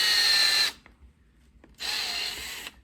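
A power drill used for tying ant fishing flies whirs in two bursts with a short quiet pause between them, loud and close.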